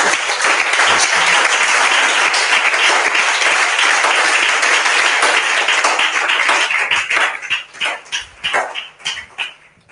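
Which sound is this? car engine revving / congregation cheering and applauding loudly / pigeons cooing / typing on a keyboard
congregation cheering and applauding loudly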